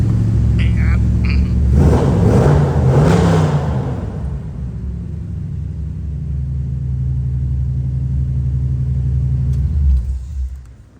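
A 1973 Chevrolet Corvette V8 with a mild performance cam gets a short blip of throttle, its rumble rising and falling over a couple of seconds before settling back to a steady idle; someone speaks briefly at the start.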